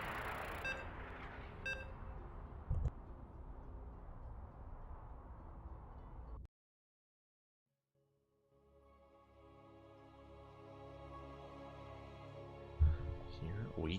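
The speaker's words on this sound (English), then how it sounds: "You can hear the beeps." Electronic beeps sound at the start of a competitive esports match in an online open-cup tournament, a short series of clipped tones over game noise before a sudden drop to silence, then a low ambient hum returns.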